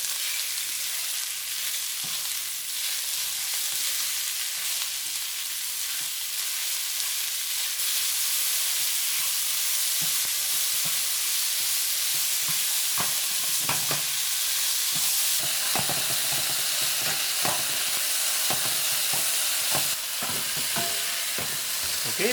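Beef being stir-fried in a pan for fried rice: a steady hissing sizzle at first, then busier scraping and tossing with sharp utensil knocks as the meat is stirred around, close and without speech.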